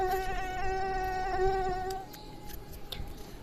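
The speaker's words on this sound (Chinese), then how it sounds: "这里怎么突然出现这么多蚊子啊？" A swarm of mosquitoes gives a loud, high, whining buzz that holds steady for about two seconds, then thins to a faint, scattered hum with no voices.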